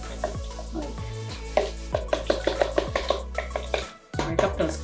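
Bread dough being stirred in a bowl, made from flour added by the cupful, with a spoon scraping and knocking against the bowl in a steady series of soft, close strokes and a short pause near the end.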